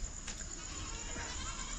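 Young goat kids bleating, with a couple of faint, short cries over hissy background noise in a brief, quiet clip.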